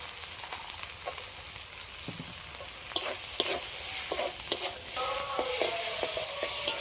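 A spice masala with turmeric and green peas being stir-fried in a pan, continuous sizzling under repeated scraping and stirring strokes that grow busier toward the end, with no talking.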